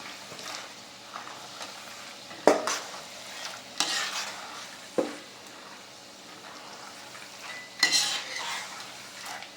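Cashews fry in oil for a moong dal mixture, a soft sizzle broken by several distinct scraping stirs and metallic clinks of a spatula against the pan, close and fairly quiet.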